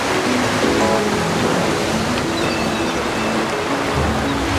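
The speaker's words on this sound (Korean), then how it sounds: "점점 거세지는 풍랑으로 바다에는 집채만한 파도가 일고 있었습니다" Rough sea waves churned up by strong wind make a loud, continuous roaring wash, with faint musical tones running underneath.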